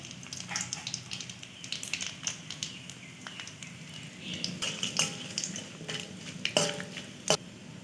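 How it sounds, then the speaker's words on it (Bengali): Dried red chillies, bay leaves, cumin and whole garam masala fry in hot oil, giving a soft, steady sizzle broken by light clinks and stirring taps from a utensil on the pan. "এর মধ্যে দিলাম দুটো শুকনো লঙ্কা, দুটো তেজপাতা, জিরে আর গোটা গরম মশলা।"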